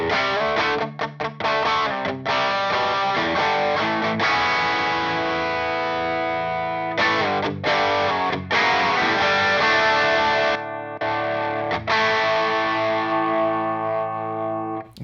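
An electric guitar runs through the distortion side of a Chase Bliss and Analogman Brothers AM pedal, loud saturated chords ringing with sustained gritty overtones and short choppy stops.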